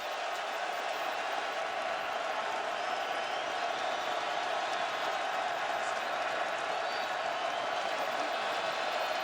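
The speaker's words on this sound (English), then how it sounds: "Crowd getting behind the Hawkeyes on 3rd down." A football stadium crowd at Kinnick Stadium cheers and roars for the Iowa Hawkeyes on third down against Illinois, a continuous, distant broad crowd noise sustained throughout.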